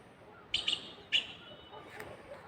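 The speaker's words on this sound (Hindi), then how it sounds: "आप देख रहे होंगे, पक्षी की आवाज़ सुन रहे होंगे।" Birds chirp among pine trees: a few short, high tweets in quick succession, then a single call a moment later, faint against a quiet outdoor background.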